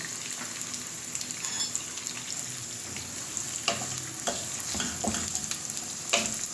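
Finely chopped onion fries in a pan with a bright, even sizzle throughout, and a few light utensil taps and scrapes appear near the end, close and steady.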